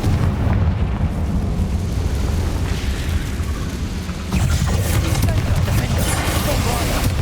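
Confringo fire-blast spell in Hogwarts Legacy during a goblin fight, heard as a loud, dense stretch of booming blasts and rumbling impacts that lulls briefly near the middle, then surges again with crackling bursts.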